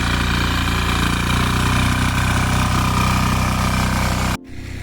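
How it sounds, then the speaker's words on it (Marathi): A tractor engine idles steadily and loudly at close range with a constant throbbing drone in a muddy rice paddy, cutting off abruptly near the end before resuming more quietly. "चिकलावून ट्रॅक्टर बाहेर येलो हा"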